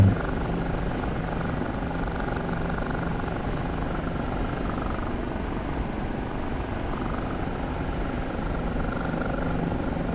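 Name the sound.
Kiowa helicopter flying in DCS video game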